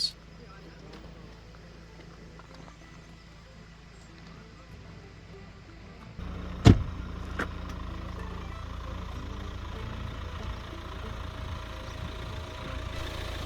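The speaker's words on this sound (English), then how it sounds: "Our little diesel car humming around there in the background." A small diesel car hums steadily in the background on an Irish road, its low engine drone rising partway through with a brief sharp knock, while a person talks over it.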